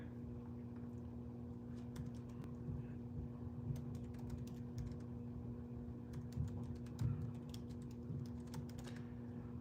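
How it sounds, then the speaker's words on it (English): Steady clicking of typing on a computer keyboard, close and continuous, over a constant low hum with no talking. "Sorry, I'm typing."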